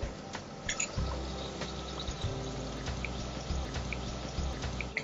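Liquid is poured into a cooking pot of mango ginger pachadi, a soft close splashing and trickling with small drips over a faint background hum.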